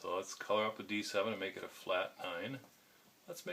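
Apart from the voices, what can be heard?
No distinct noise like a dog, phone or traffic.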